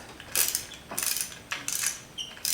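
A socket ratchet works a hose clamp on a 1976 Corvette restomod engine, making four close bursts of rapid metallic clicking with short pauses between them and no talking.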